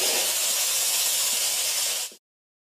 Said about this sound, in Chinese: 下锅后，先爆炒至微微起窍，再加入各种调料，即可香喷喷出锅。